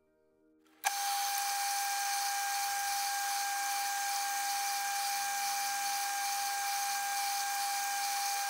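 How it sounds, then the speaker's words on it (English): A power drill kicks in abruptly after a moment of near silence while securing a part with a couple of 2BA screws on a Lycoming GO-145 engine build, holding a steady, high, continuous whine throughout. "I'll just secure it through with a couple of 2BA screws"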